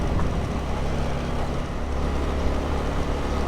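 A truck and a motorbike rumble past at steady volume on a Thai road, a low engine drone with road noise filling the whole stretch.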